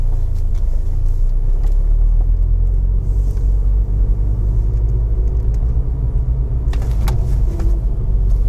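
A VW Golf GTI's engine drones in a heavy, steady in-cabin rumble while circulating Bedford race track, loud and continuous with faint rattles and thumps over the low roar.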